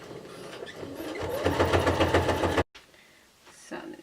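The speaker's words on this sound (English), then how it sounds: "I'm going to top stitch here so it stays nice and flat" A sewing machine runs steadily while top stitching a fabric zipper pouch, a loud rapid mechanical whir that stops abruptly, followed by quieter handling noises and a faint voice.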